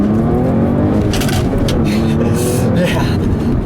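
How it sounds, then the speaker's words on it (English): A 2010 Audi S4 with a six-speed manual gearbox driven hard: a loud, steady engine drone with shifting pitch fills the whole stretch, with a voice talking underneath. "This car is fast. It's very, very fast."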